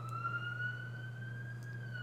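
An ambulance siren wails in a steady rising and falling tone, loud and continuous throughout over a low constant hum, with no one speaking.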